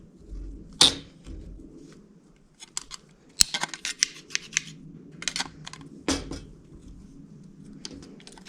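Tin snips cutting rust-repair sheet metal for a 1957 Chevy door hinge area, giving a few sharp, close metallic snips and clacks separated by quieter handling noise.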